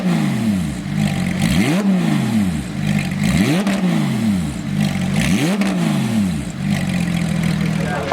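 A 2016 Porsche 911 GT3 RS flat-six revs up repeatedly in a steady rhythm, about four sharp climbs and falls, loud and close at an outdoor car meet.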